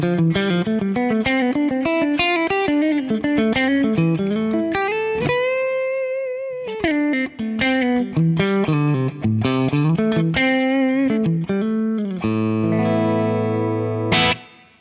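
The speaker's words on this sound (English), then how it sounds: "Now that's just the reverb on its own." Electric guitar played through reverb alone, a melodic run of sustained single notes and bends with a lingering wash of ambience, ending on a held chord that rings out before fading.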